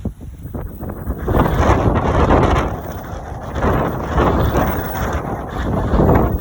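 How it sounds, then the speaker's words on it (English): Strong gusty wind buffets the microphone outdoors on a walk in Merida, Mexico, a loud, rough roar that swells and eases in waves with no one talking. "It's really nice out. It's just windy, which is some nice fresh air."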